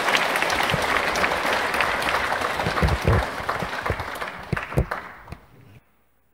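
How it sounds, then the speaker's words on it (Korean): A church congregation applauds at a feast-day celebration after Sunday Mass, a steady, full wash of many hands clapping that holds for several seconds, then tapers off and stops abruptly. "박수 부탁드리겠습니다."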